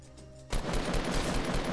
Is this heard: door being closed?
no